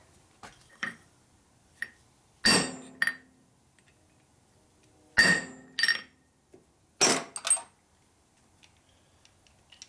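Metal number stamps hammered into a 1965 Harley-Davidson panhead 74ci motor part, sharp ringing metallic strikes in small clusters of two or three, close and loud with quiet gaps between, plus faint lighter taps.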